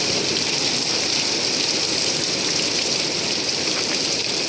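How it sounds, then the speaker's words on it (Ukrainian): Heavy rain pours down in a steady, loud, dense hiss that continues without pause throughout. "Оце то дощ."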